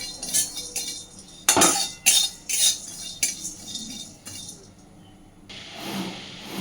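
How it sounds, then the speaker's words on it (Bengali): Whole spices and dried red chilli pieces dry-roasting in a dry pan, scattered clinks and sharp scrapes of a spatula against metal, with quiet gaps between strokes, close and without talk. "এই মশলাটাকে এবার আমি শুকনো খোলায় আগে একটু ভেজে নেব"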